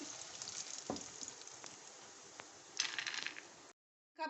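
Crisp, crackling rattle of chickpeas frying in oil, a busy scatter of small pops and clicks that swells briefly before cutting off.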